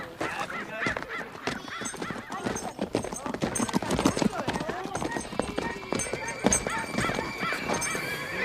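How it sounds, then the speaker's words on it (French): A horse whinnies amid clip-clopping hooves in a Western town scene, with honking fowl and people talking over the busy, close-up mix. "Nathan, le cheval blanc là-bas."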